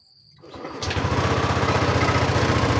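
A motorcycle engine, one suspected of failing parts and blowing white smoke, cranks and catches after a brief starter whir, then settles into a loud, steady, close idle with an even pulsing beat.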